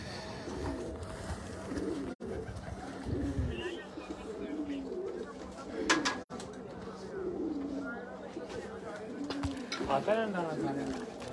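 Racing pigeons coo softly in repeated low, rounded calls on a rooftop beneath steady outdoor background noise, with a voice speaking intermittently.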